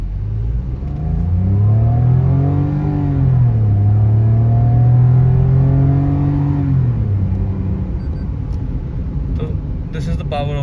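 A 2026 Maruti Fronx revs up hard from inside the cabin, its engine rising and falling in pitch in smooth sweeps as it accelerates, loud and close, then settling to a steady road rumble with a few faint clicks near the end.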